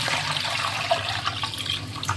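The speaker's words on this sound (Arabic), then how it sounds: "ابتدي اضيف ميه الليمون." Lemon water pours into a homemade liquid soap mixture made from lemon peels. The trickling, splashing stream is close and steady, with small gurgles and no talking.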